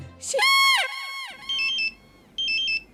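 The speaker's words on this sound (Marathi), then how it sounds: "यार फोन वाजतोय तुझा." A mobile phone ringtone plays in a Marathi comedy serial scene: a bright rising melodic phrase, then two short repeated electronic tone bursts, near and clear over a low background.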